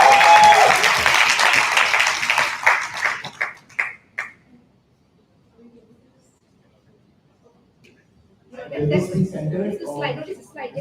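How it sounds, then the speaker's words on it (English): Audience applause for debate teams at a grand final breaks out loud and dense, then tapers into scattered claps and near silence before voices and crowd chatter rise again. "We have a huge round of applause for all the teams that have made it to the Grandfinals."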